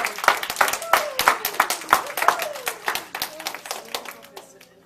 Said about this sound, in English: let's all give a round of applause for our new 7 magnificent leaders